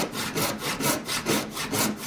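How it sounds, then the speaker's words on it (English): A tenon saw cuts the tenon of a wooden joint by hand, with rhythmic back-and-forth rasping strokes about four per second, close and clear with no talking. "The next step is going to be to cut the tenon, which is the male portion of the joint. And that gets done with a special kind of saw called a tenon saw."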